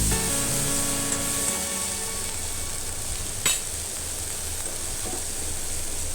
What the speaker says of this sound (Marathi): त्यानंतर आपण लगेच टोमॅटो टाकणार आहोत दोन्हीला पण हलवून घ्यायचं